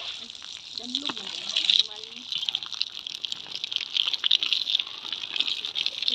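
Water being poured and spilled indoors, a steady splashing gush that runs the whole time with brief louder surges, while people talk nearby.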